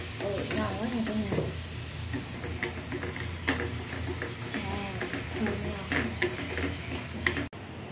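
Squid stir-fried with satay sauce and shallots in a hot pan, loud continuous sizzling with frequent clicking scrapes of a utensil stirring, a voice murmuring faintly underneath.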